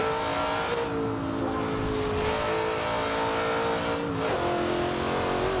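A 2015 Corvette Z06 races in Forza Horizon 2, its engine revving hard and continuously with rising and falling pitch through gear changes, loud and close with no talking.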